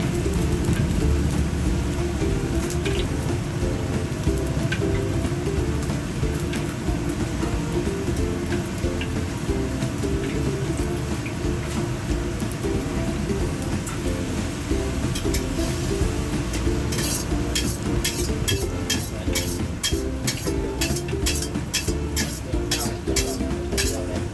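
Hot oil ladled steadily over crispy pork belly deep-frying in a large batch, a continuous dense sizzle and crackle with brighter spattering bursts near the end, close and loud, no talking.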